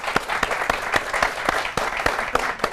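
Audience applause at a televised debate competition prize award in Pakistan, a steady patter of many hands clapping close and continuous throughout.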